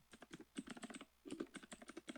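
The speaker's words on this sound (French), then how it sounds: "j'ai l'impression qu'il y a quelqu'un qui est en train de massacrer son clavier là" Someone hammers hard on a computer keyboard during an online game session, fast clattering keystrokes in two quick runs separated by a short pause, faint and close, without talk.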